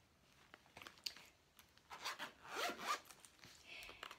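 Zipper on a planner carrying case is pulled open in a few quick close rasping strokes, with softer fabric rubbing between them.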